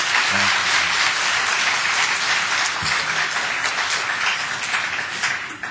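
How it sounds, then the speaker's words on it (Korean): A church congregation at a Sunday service bursts into sustained applause to welcome a visiting missionary pastor, steady dense clapping from many hands filling the room throughout before tapering slightly at the end. "우리 힘찬 박수로 한번 격려하면서 맞이했으면 좋겠습니다"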